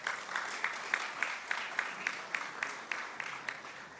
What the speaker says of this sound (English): You can go ahead, clap for that.